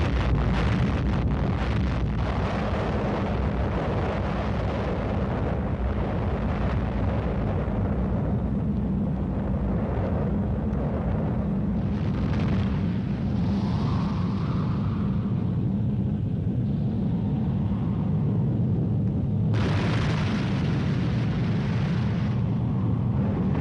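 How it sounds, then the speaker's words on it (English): Atomic bomb test detonation on a military proving ground: a long, heavy rolling rumble and roar that swells and churns for over twenty seconds, with a sharper burst of noise near the end and no voices. "The countdown announces the detonation."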